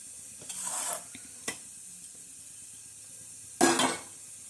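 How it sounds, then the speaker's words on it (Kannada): Whole spices including cinnamon frying in a pan for egg biryani, with a quiet sizzle broken by two short bursts of stirring scrapes and a sharp tap, close by. "ಇದನ್ನೆಲ್ಲ ಸ್ವಲ್ಪ ಫ್ರೈ ಮಾಡ್ಕೋಬೇಕು ನೋಡ್ರಿ. ಈ ತರ ಫ್ರೈ ಆಗ್ಬೇಕು ನೋಡ್ರಿ."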